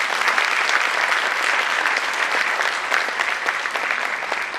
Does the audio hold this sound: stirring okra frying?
no